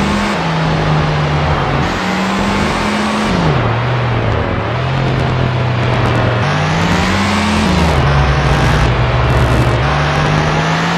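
Engine of a car in the Test Drive Unlimited racing game, likely a Spyker C8 Spyder T or Lamborghini Countach 25th Anniversary, droning loudly and continuously, pitch rising and falling through gear changes as it accelerates.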